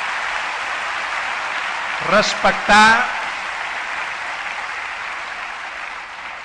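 An audience at a conference applauds steadily throughout, a broad even patter that carries under a voice speaking briefly near the middle.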